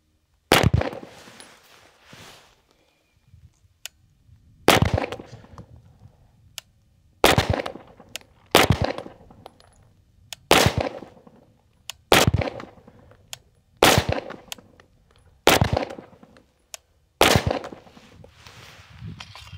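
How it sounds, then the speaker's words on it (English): Gunshots ring out at target practice, about ten sharp, loud reports spaced roughly two to three seconds apart, each followed by a brief echoing decay with quiet outdoor pauses between. "Let's shoot some guns."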